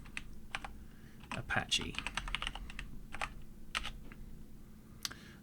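Command being typed on a computer keyboard at a Linux terminal: bursts of quick, close key clicks with short pauses, while someone speaks briefly partway through.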